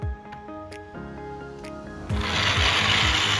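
A battery-powered homemade toy train runs close by, its small motor buzzing and whirring steadily while the cars clatter lightly, the sound growing louder and rougher partway through.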